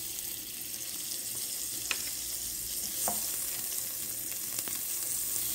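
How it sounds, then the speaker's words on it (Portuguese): Butter sizzles softly in a hot pan, a steady crackling fry with a few sharp pops and light scraping, heard up close. "colocando a metade da manteiga aqui na panela."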